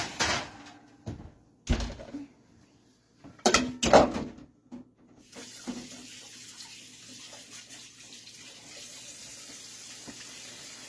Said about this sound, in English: I'm just washing my hands.